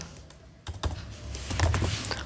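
Typing on a computer keyboard to name a header file for an RC filter, a quick run of soft key clicks that start quiet and grow busier and louder toward the end, with no voices.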